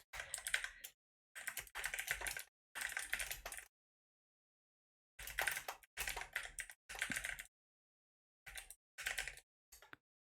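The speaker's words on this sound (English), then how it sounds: "Did not mean to give you typing ASMR." Keys clatter on a computer keyboard in close, quick bursts of typing, several runs of rapid clicking separated by silent pauses.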